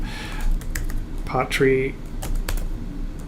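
Close, rapid clicking of computer keyboard keys as a command is typed, a quick run of sharp taps mixed with a brief spoken word.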